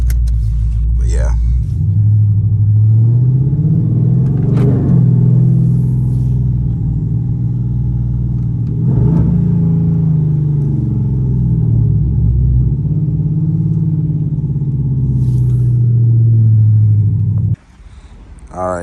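A loud cammed car engine idles during a warm start, a deep steady lumpy rumble with a few brief rises in revs, close by and continuous until it cuts off near the end.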